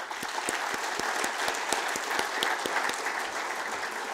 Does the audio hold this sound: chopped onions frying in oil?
no